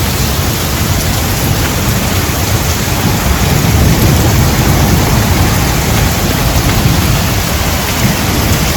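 Steady heavy rain pours during a thunderstorm in Canada, a dense unbroken hiss of drops with low rumbling thunder underneath, loud and close throughout with no voices.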